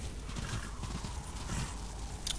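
Horse hooves gallop in steady clip-clop rhythm while riding through a level in the video game Darksiders, with a brief whinny near the end and no talk.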